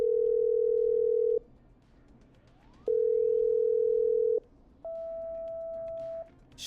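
A telephone tone in the game Killer Frequency plays three long steady beeps, two at one pitch and a third slightly higher, with quiet gaps between them.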